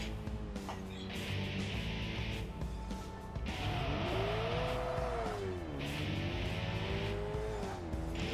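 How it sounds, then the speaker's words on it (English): Car engine whine and tire noise in Tokyo Xtreme Racer on a highway, a steady loud drone with rising and falling revs, nearby and continuous. "I gotta wait for the blue car to pass by."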